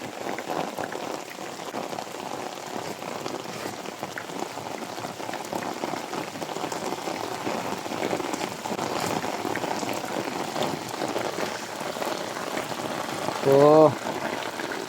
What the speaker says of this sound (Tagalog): Patuloy ang ulan mga parikoy